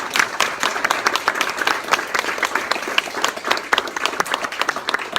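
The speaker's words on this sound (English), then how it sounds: "And I'd like to give them all a big round of applause." An audience at a guide dog graduation ceremony in Ottawa claps for the puppy raisers, sustained applause with many sharp individual claps standing out, fairly close and lively throughout.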